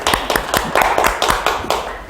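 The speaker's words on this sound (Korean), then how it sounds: "자, 박수 한번 칩시다." Students in a real estate agent exam-prep academy classroom clap their hands together in a steady, rhythmic unison, about nine sharp claps in two seconds, close and fairly loud with no talking.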